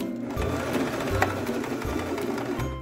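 A Tradition 225 sewing machine stitches a short backstitch in bursts of low, steady motor whirring, close and fairly loud, with brief pauses between runs.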